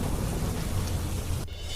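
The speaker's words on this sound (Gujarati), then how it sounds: "સાપુતારા, વઘઈ, સુબીરમાં ધોધમાર વરસાદ." A torrential downpour in Gujarat's Dang district, around Saputara, Waghai and Subir, makes a dense, steady roar of heavy rain with a low rumble beneath, cutting off abruptly just before the end.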